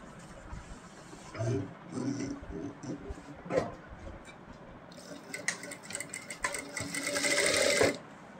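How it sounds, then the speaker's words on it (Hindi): A sewing machine stitches a ban collar on a kurti, running in short whirring bursts that build to a longer, louder run near the end, fairly quiet overall. "पहले लगाएंगे हम सिलाई।"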